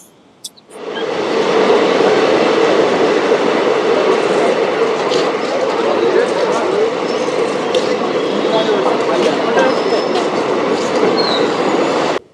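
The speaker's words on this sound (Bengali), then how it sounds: "আমাদের ট্রেন 22387 হাওড়া থেকে ধানবাদ ব্ল্যাক ডায়মন্ড এক্সপ্রেস প্রবেশ করছে শেওড়াফুলি স্টেশনের 4" The Howrah–Dhanbad Black Diamond Express, train 22387, pulls into platform 4 at Sheoraphuli station with a loud, continuous rumble and clatter of wheels lasting many seconds, while voices murmur faintly along the platform.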